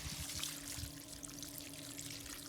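Water flows from a deep well pump at an abandoned house, a steady faint trickling pour with a low mechanical hum underneath, continuous and fairly quiet.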